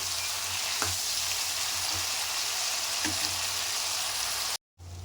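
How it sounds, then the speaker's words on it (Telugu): Brinjal (eggplant) pieces fry in oil in a pan for a curry, a steady, close, loud sizzling hiss with a few faint stirring knocks, briefly cut to silence near the end. "ఇలా వేసేసుకొని ఇవి ఫ్రై కానివ్వాలండి"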